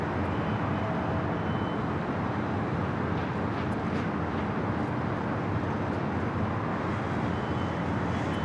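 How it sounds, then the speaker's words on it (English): A Southwest Airlines Boeing 737 MAX 8 arrives at Los Angeles International Airport as a broad, steady roar. It holds at a constant loudness throughout, with no talk over it. "another Southwest flight coming in from Kansas City. Southwest Airlines flight 2799. It's a 737 at MAX 8."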